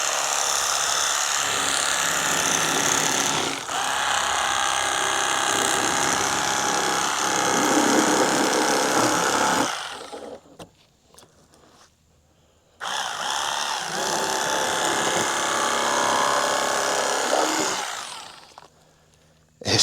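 A WORKPRO electric fillet knife cuts catfish fillets with a loud buzzing motor whine, running for about ten seconds, stopping for a brief quiet gap, then starting again for several more seconds.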